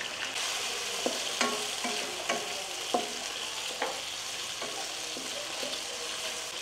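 Chicken sautéing with onions in a pan, seasoned with salt and black pepper, gives a steady broadband sizzle with regular scraping stirs roughly every second, close and alone with no talking.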